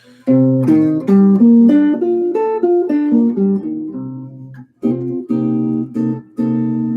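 Clean guitar strums a series of ringing minor-flavored chords built from Dorian mode chord tones, each let to sustain briefly, with a short pause before the final few chords.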